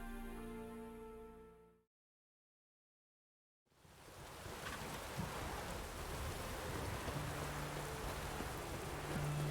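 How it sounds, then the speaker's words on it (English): Rain falls outside in a steady, dense hiss that starts abruptly after a short silence and continues evenly to the end, with no voices. "It's raining again."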